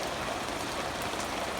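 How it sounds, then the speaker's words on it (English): Rain falling on an open pasture, a steady broadband patter that stays even and fairly loud throughout, with no voices. "Rain is starting to increase."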